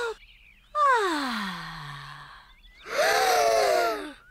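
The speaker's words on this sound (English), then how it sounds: "Breathe in the wonderful fresh air" Cartoon children take two long, deep breaths of fresh air at a campsite. Each is a drawn-out, airy inhale, fairly quiet, with a short pause between them.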